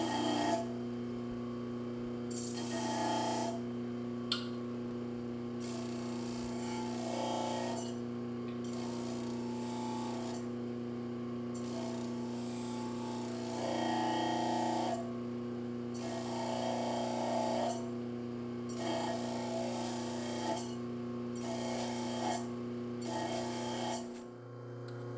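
A tempered steel knife blade is hand polished up to 320 grit, producing steady rhythmic rasping and rubbing strokes over a constant motor-like hum, faint and without talk.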